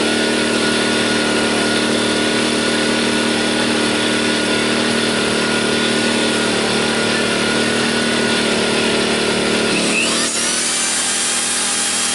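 A small portable generator runs with a steady, buzzing engine drone, close and constant, until its pitch shifts abruptly near the end.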